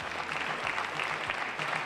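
Audience applause welcoming an artist onto the stage at an Italian art award evening, a steady dense clapping that fills the whole moment without interruption.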